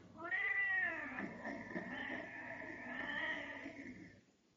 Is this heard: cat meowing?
yes